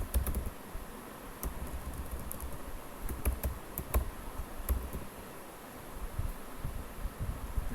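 Typing on a computer keyboard while entering data into a spreadsheet, quiet irregular clicks and key taps in scattered bursts with brief pauses, close and faint over light room noise.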